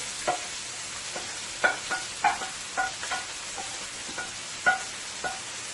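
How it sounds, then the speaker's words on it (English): Seasoning fries in hot oil in a pot for Guyanese bora with shrimp, a steady sizzle broken by a spoon scraping and knocking against the pot every second or so, up close with no talking. "into my hot oil here, let's add our remaining seasoning"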